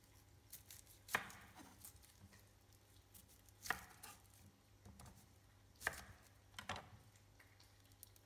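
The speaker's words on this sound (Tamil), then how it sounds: "இது வதங்கின டைமில் வந்து வெங்காயமும் வெட்டணும்." Onions being chopped with a knife on a board at home, a few separate distinct chops spaced irregularly over a quiet, low background hum, fairly faint and close.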